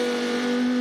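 A Lamborghini Huracan GT3 race car engine in Gran Turismo 7 holds a steady, loud, buzzing drone at constant revs with strong harmonic tones, heard alone for under a second.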